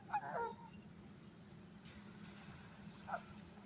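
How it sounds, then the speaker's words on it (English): Geese honk faintly in the distance, one call at the start and another near the end, over a low steady background hum. "They're the Weber State geese."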